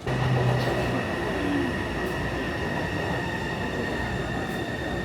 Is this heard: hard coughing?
no